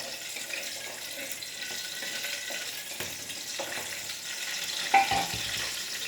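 Garlic frying in hot oil in a pan, a soft continuous sizzling hiss with a few faint clinks, fairly quiet and steady.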